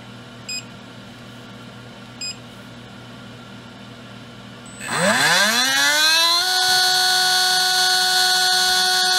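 A Tekin Elite 17.5t Gen4-R2 brushless RC motor spins up for an RPM test, with a sharp rising electric whine climbing in pitch before settling into a loud, steady high-pitched tone, preceded by two faint short beeps.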